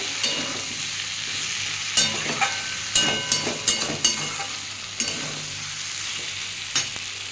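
Fried pointed gourd is stirred into a pan of katla fish curry with potato and drumsticks, a steady sizzle broken by repeated scraping and clattering of a spatula against the pan, close and clear, no voices.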